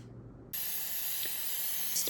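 A short, steady hiss of cooking spray onto a pan begins abruptly and continues for a couple of seconds, close and fairly loud.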